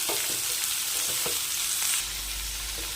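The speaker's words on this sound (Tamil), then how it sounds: "வெங்காயம் தக்காளி நல்லா பேஸ்ட் மாதிரி வதக்கி எடுத்துக்கலாம்." Steady sizzling of chopped onions and tomatoes sautéing in a pan, with occasional stirring clicks and scrapes; continuous and fairly close, no voices.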